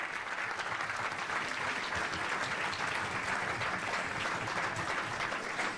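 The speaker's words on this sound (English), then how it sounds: "big round of applause for Hotshot Peter" An audience at an evening question-and-answer event applauds to welcome footballer Peter Lorimer, with sustained, even clapping from a sizeable crowd throughout and no voices over it.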